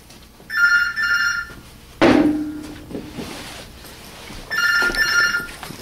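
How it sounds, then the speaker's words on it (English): An old-style telephone bell rings indoors in a hotel room in two bursts, a pause with a thud and some clatter between them. The ringing is loud, close and repeats with the same pattern. "Goddamn phone's already ringing."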